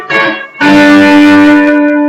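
Electric guitar playing a chord riff: a short strummed dyad, then a sustained ringing chord, loud and close with no talking over it.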